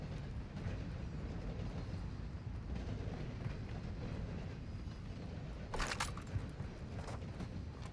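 A train rolls past in a video game, a steady, distant rumble of rail wagons with a brief louder clatter midway and no talk over it.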